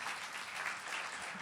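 A church congregation claps together in a steady, dense burst of applause that holds at even loudness throughout, with no talking over it.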